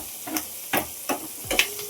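Onions fry in a tempering pan, with a soft sizzle underneath and a few short scraping stirs at a slow, uneven pace.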